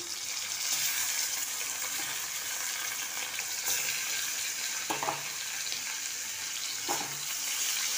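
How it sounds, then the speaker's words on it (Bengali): Chicken and soya chunks fry in a pan for a steady sizzle that lasts the whole time, with a couple of soft stirring scrapes and no talk. "এবারে আমি মাংসটা আর সোয়াটাকে তুলে দেবো"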